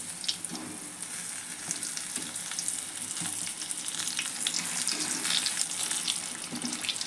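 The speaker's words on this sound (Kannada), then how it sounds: "ಹೊಳ್ಳೆ ಹಾಕಿ ಕರಿಬೇಕು ನೋಡ್ರಿ." Mirchi bajji, batter-coated chili fritters, deep-frying in hot oil, with a continuous bright, crackling sizzle that stays fairly even throughout, heard close up and without any speech.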